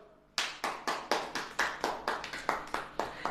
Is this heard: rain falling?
no